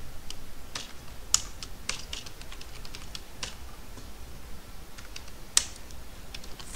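Typing on a computer keyboard: a steady run of quick, light key clicks close by, with a couple of sharper, louder taps standing out and no talking.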